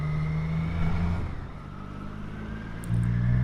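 On a Triumph Street Triple R motorcycle riding behind a diesel vehicle, a loud, steady engine drone dips in pitch partway through and then rises again, with wind rush underneath.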